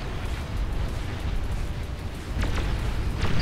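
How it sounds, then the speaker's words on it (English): Bombs dropping and exploding in a video game, a dense, continuous roar of overlapping blasts and rumble with a few descending whistles near the end, loud throughout and with no talking. "Oh, I love the sound of those bombs dropping."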